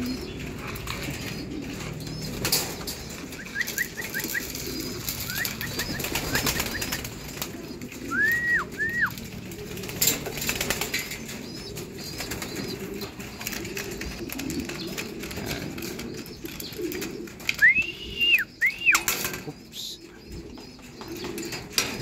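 Several pigeons kept outside coo in short, repeated bursts, some near and some farther off, over a steady background hiss, with occasional wing flaps.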